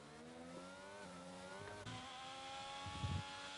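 Engine of an F1 22 video game car on an outlap at the Belgian Grand Prix, a steady high-pitched whine with layered harmonics that rises in pitch and holds loud, with a brief low rumble near the end.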